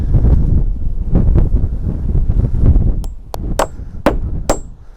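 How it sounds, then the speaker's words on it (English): Strong gusting wind roars outdoors, loud and steady throughout, with several sharp clacks or knocks near the end. "that wind is so strong"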